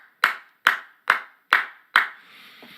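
Five sharp, evenly spaced hand claps, close and crisp, each decaying quickly, followed by a faint background hum.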